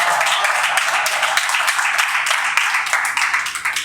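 A crowd at a poetry recital claps steadily, a bright, even patter of many hands that stays moderately loud throughout.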